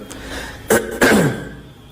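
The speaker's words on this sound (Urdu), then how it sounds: "اس لیے تھوڑا سا بار بار کھانس رہا ہوں" A man with a sore throat coughs twice in quick succession, two sharp, close bursts followed by a faint trailing rasp.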